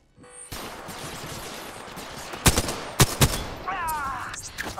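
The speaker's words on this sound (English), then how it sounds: "Firing! Reloading! Downed one." Gunfire in a squad shooter game: steady rapid automatic fire with several louder sharp shots standing out near the end, close and loud, with a brief voice over the shooting.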